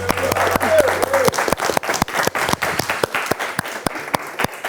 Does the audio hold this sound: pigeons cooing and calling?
no